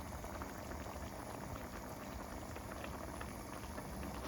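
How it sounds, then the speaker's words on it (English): Bolognese sauce bubbles away in a pan with a soft, steady simmer that stays faint and even throughout, with no voices over it. "you can see this is bubbling away lovely"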